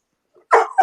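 A dog gives a couple of quick, close, sharp barks, a faint yip followed by two louder yaps in rapid succession.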